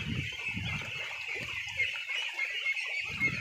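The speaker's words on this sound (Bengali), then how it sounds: "দেখুন হাঁসগুলো কীভাবে খেলাধুলা করতেছে" Ducks on a small village farm pond, quacking and clucking calls close by in short bursts over a steady background hiss.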